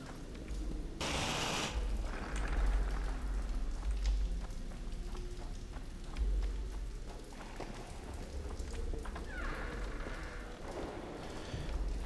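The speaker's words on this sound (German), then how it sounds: "ist auch krass, dass hier unten in der Höhle äh, regnet, aber ja gut, wenn die Höhle oben oben offen ist" Steady rain pours down inside a cave that is open at the top in The Witcher 2, a constant hiss of drops with faint low rumbles and no voices.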